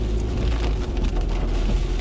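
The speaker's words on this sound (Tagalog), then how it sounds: "bumuhos na yung sobrang lakas ng ulan ngayon dito sa Bukandala." Very heavy rain pours down steadily in Bucandala, Imus, Cavite, a dense, constant hiss and patter on surfaces with no break.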